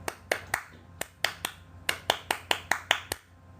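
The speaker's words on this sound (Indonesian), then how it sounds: "Kita sekarang tepuk pramuka, itu dia tepuk pramuka." A group of Pramuka scouts performs a rhythmic clapping routine, sharp claps landing in quick patterned bursts and short pauses, near and fairly crisp, with no talking.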